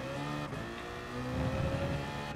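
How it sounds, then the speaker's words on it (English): BMW Z4 race car in Gran Turismo Sport with a strong, harmonic engine drone that holds steady, then swells slightly louder in the second half, with no talk over it. "This car does sound good. It's an awesome car. I love the Z4."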